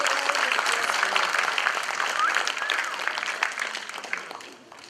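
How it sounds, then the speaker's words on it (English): An audience at a National Handloom Day prize event at Mizoram University applauds the first prize winner, a dense steady wash of clapping from a crowd that fades slightly at the end. "Let's give a round of applause for him."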